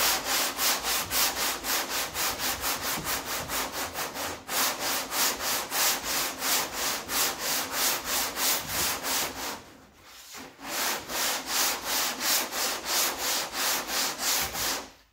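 A sanding block scrapes over the trunk lid of a 1969 Sport Satellite in fast, even back-and-forth strokes that sound loud and close. The strokes pause briefly near the ten-second mark and then resume, with no speech.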